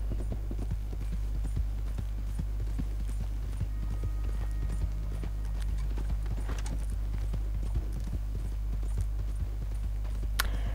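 A horse's hooves clip-clop steadily in Red Dead Online, a continuous rapid rhythm over a low constant hum.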